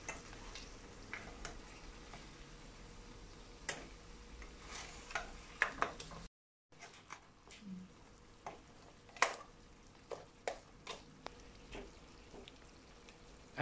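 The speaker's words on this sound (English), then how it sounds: "Stir it properly again." Spices are stirred into a Bengali home-style lamb chops curry: a faint simmering background with repeated light spoon taps and scrapes against the pot, close up, with a brief silent gap midway.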